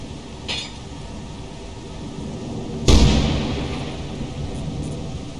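In a video game, a lightning strike drawn to a robot toy unleashes a sudden loud thunderclap that rumbles and fades over a couple of seconds, with a fainter crack just before it and steady rain-like noise throughout.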